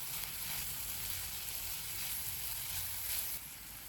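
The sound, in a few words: ginger-garlic paste and tomatoes frying for mushroom curry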